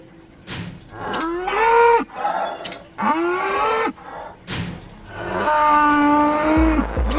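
A cow moos three times in long, drawn-out calls, close and loud, with short gaps between them, at a pig farm.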